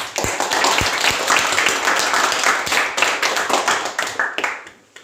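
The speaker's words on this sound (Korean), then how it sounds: "이 동영상을 제작해준 2학년 박경태 학생에게 큰 박수 부탁드립니다" A school audience at a middle school gifted-class presentation and completion ceremony claps in a burst of applause, dense at first and then thinning out to a few scattered claps.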